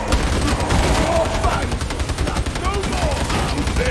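Rapid gunfire from snipers in the Warhammer 40,000 Darktide video game crackles in dense, continuous bursts amid a busy combat din, with brief voice sounds mixed in.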